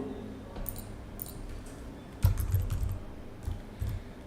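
Computer keyboard typing at a Python Django workshop, scattered soft key taps with a few louder clustered strokes, close and fairly quiet over low room hum, no talking.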